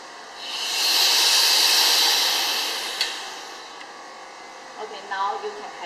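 A vacuum emulsifying homogenizer mixer releases its vacuum in a broad, steady hiss that swells and then slowly fades over several seconds, followed by a few faint mechanical clicks and rattles.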